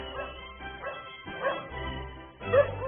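A dog barks and yips a few times in short bursts, close by, with a muffled quality.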